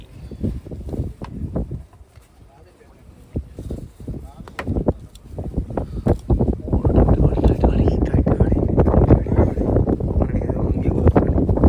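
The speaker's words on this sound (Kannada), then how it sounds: "ಟೈಟ್ ಗಾಳಿ ಬಂತು" Strong gusts buffet the microphone in low, rumbling bursts that grow louder and more constant toward the end, with indistinct voices mixed in.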